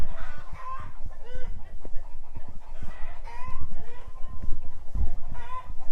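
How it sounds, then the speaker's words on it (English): Farmyard chickens cluck and squawk excitedly after a tree has fallen on a woodland homestead, several birds calling at once in a busy, close, continuous chatter. "The chickens are going crazy."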